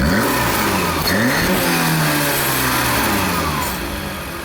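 A Changan Karvaan Plus engine idles cold after an ISC valve replacement, a close, steady motor hum whose pitch wavers slightly and then eases down in volume near the end.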